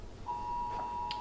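A mobile phone emergency alert sounds as a single steady, piercing tone in a boxing training hall, fairly faint against a low background hum.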